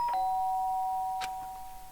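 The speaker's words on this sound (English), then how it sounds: "The sharp sound of the doorbell pierced my sleepy haze and pulled me back to the real world." An electronic ding-dong doorbell from the Danganronpa video game rings loud and clear at the start, its tone lingering and slowly fading, followed by a single soft tap.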